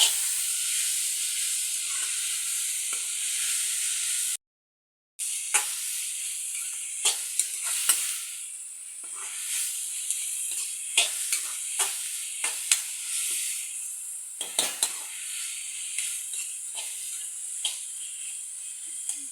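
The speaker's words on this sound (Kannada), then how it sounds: "ಗರಂ ಮಸಾಲೆಗಳೆಲ್ಲದಲ್ಲ ಅದನ್ನು ಹಾಕ್ತಾ ಇದ್ದೇನೆ ಮತ್ತು ಗೋಡಂಬಿ ಸಹ ಹಾಕ್ಕೊಳ್ತಾ ಇದ್ದೇನೆ ಇದನ್ನು ಒಂದು ಸ್ವಲ್ಪ ಹೊತ್ತು ಫ್ರೈ ಮಾಡೋದು" Whole garam masala spices and cashews fry in a pan while being stirred, a continuous close hiss and sizzle with repeated sharp scraping clicks and one brief break.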